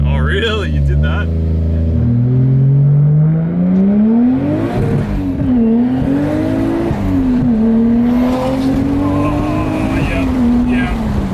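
A 450 hp 1JZ-engined Toyota Chaser is heard from inside while driving, its engine droning loudly and rising and falling in pitch with an uneven, misfiring edge, while people talk over it.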